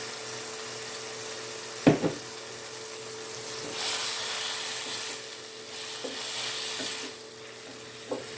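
Fresh tomato goes into a sizzling pan of picadillo with chickpeas, giving a steady soft fry with a sharp clack near the start and a few light stirring knocks and scrapes, close by and without talk.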